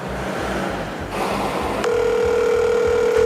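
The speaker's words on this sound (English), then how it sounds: "I'm receiving a phone call from Jenna." An incoming call rings on a Microsoft Surface Duo phone, a steady, loud electronic ring tone that starts partway through over a low, pulsing background hum.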